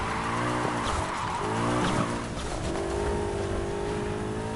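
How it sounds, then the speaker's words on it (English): Car drifting and sliding in the racing game Need for Speed Heat, a loud, continuous engine roar with revving pitch shifts and tire squeal running through the whole stretch, no talking over it. "Just slide a bit more than what I'd like."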